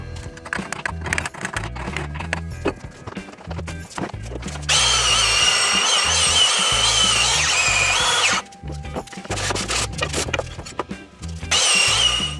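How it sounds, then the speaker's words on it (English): A power sander works the inner part of a wooden roller box for a sailing canoe spar, running in a loud steady burst of several seconds, then returning briefly near the end. "We'll sand the inner part of the roller box"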